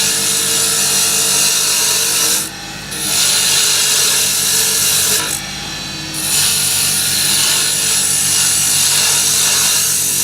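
A hand tool shaves fine curls of wood from a screwdriver handle being shaped, giving a steady, loud scraping that runs nearly throughout and breaks off briefly twice.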